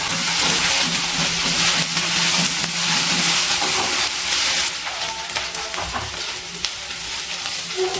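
Ginger garlic paste fries and is stirred in oil with fried onions while palak paneer is being cooked, giving a steady loud sizzle with scraping stirs throughout and a slightly quieter stretch toward the end.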